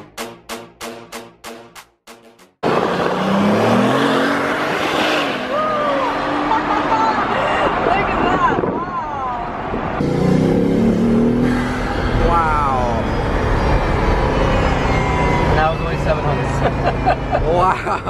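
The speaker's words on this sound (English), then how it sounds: "What is that, like a turbo noise? Yeah, four turbos." Bugatti quad-turbo engine during a race on a track, heard as loud revving and whooshing car noise that rises and falls, with people talking excitedly over it throughout.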